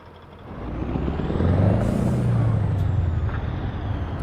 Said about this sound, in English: That was a nice sounding engine, that is for sure.